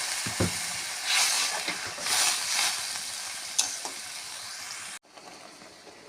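Water poured into a pan of eggplant frying with spices brings a loud, steady sizzle and hiss with brief surges and a few clinks from stirring, then the sound drops sharply near the end as the pan is covered.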